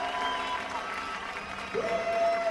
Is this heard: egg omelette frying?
no